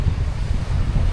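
Rough, whitecapped sea churning under strong wind, a loud continuous roar of surf and gusts buffeting the microphone with no voices.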